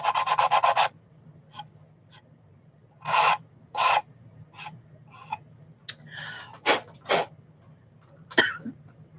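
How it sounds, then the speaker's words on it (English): Hand sanding on a wooden birdhouse comes in short rasping bursts of rubbing, a quick rhythmic run at first, then scattered strokes of varying length with quiet gaps between, close and clear. "I find these little bumps and I've got to sand them out"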